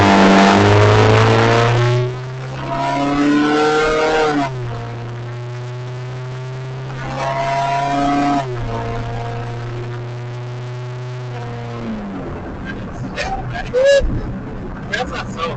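A modified car exhaust revs in loud, raspy bursts that sound like a dirt bike, with several throttle blips rising and falling close by, followed by quieter idling and some faint talk.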